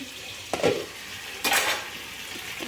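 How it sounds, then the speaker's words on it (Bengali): Tomato chutney being stirred in a pan after the lid comes off, two scraping, sizzling strokes of a spoon against the pan with a quiet pause between, close and fairly soft with no talk. "ঢাকা খুলে আরেকবার নেড়ে নিচ্ছি তলায় যেন লেগে না যায় ভালো করে নেড়ে নিলাম"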